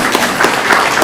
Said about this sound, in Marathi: जोरदार टाळ्या वाजवूयात तात्या.